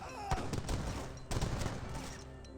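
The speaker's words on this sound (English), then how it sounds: "That is a gun that doesn't go past the camel's head." Camel-mounted guns firing in Age of Empires 3, a quiet, ragged volley of gunshots with two sharper bursts, heard alongside battle noise.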